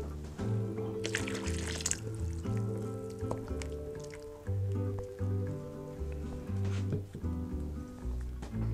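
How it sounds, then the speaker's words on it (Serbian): Water is poured into a pot of stew (čorba), a soft liquid trickle and splash sitting beneath steady tonal background music throughout. "Još malo vodice."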